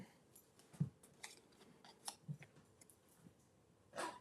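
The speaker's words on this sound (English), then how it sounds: "Now, we're going to fussy cut that." Scissors fussy-cutting paper for a craft project: a handful of soft, scattered snips and crisp clicks at irregular intervals, close by and fairly quiet, with no talking.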